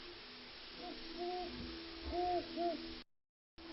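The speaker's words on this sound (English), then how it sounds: "they'll dub like a great horned owl vocalization in there, because it's just like the default kind of owl sound" A great horned owl hoots in the woods, a few soft low hoots in a short series, distant and faint over a quiet hiss, ending in a brief dropout of silence.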